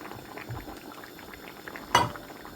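Eggs boiling in a pot of bottle gourd curry with tomato, a low steady bubbling simmer close by, broken by one brief louder clatter of a utensil.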